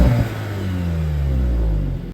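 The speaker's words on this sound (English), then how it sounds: "Second is the exhaust sound." An Audi S3 exhaust revs from outside, a throaty engine note that swells and then drops in pitch as the revs fall away, close and fairly loud.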